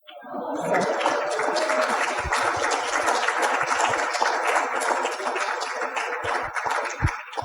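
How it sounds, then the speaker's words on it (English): Applause from an audience at an evening community talk on pond health fills the whole stretch, a dense steady patter of many hands clapping at moderate distance, with scattered low thumps and no voices standing out. "And one last round of applause."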